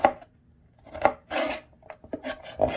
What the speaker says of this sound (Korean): 그냥 믹스에 잘 갈리도록 잘라주시면 됩니다.